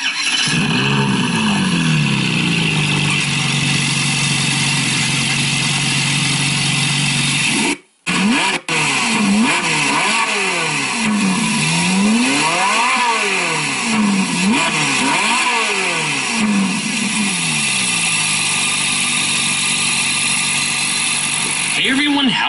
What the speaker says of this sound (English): so as you can hear, that Ferrari sounded really nice